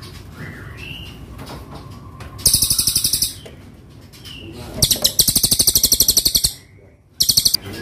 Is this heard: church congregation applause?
no